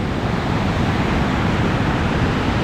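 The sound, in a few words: rushing Nisqually River at Mount Rainier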